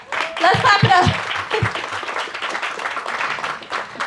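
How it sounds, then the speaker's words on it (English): An audience at a live motivational speaking event bursts into applause, a dense patter of clapping that swells and then carries on steadily, with a speaker's voice rising over the first part. "Yes, let's clap it up. Let's clap it up."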